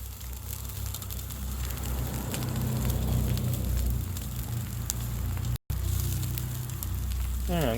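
Hamburger buns toasting on a Blackstone flat-top griddle, a steady close hiss and crackle of sizzling that runs continuously, with a brief dropout and a faint voice near the end.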